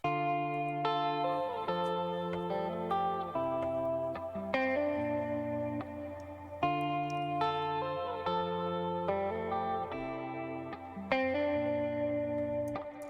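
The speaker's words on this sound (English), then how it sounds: "The guitar loop sounds like this." A looped guitar phrase from SoundTrap plays plucked, chorus-tinged notes in a repeating melodic pattern for about thirteen seconds, each cycle restarting with a fresh attack, with no voices.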